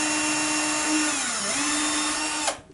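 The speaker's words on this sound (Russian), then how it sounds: "Не дави, просто сверли все." A power drill whines steadily while boring holes in a wall to mount window blinds, its pitch dipping briefly under load before it stops abruptly. No one speaks over it.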